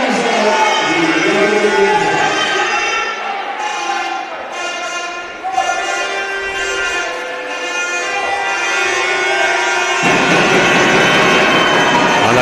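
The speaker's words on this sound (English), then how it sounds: "the crowd noise" A loud basketball arena crowd roars during free throws at a playoff quarterfinal, a dense, continuous wall of noise that swells and holds for several seconds.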